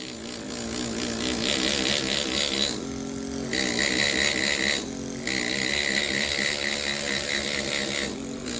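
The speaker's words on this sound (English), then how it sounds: "I gotta go sharpen my tools." Stone carving tools are sharpened on a powered grinder that gives a loud, steady whine, cut by two short breaks where the tone drops before the grinding starts again.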